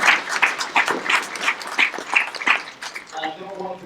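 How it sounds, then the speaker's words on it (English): Clapping rises at an Air Force basic training graduation ceremony as the crowd applauds the graduates' parents, with rhythmic bursts of applause and a voice speaking over the end. "How about a round of applause for our parents?"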